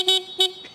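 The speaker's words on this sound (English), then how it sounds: "So horn check for the Yamaha MT-10." Two short honks from a Yamaha MT-10 motorcycle horn, the 2022 second-generation model, each a bright steady tone, loud and close, separated by a brief pause.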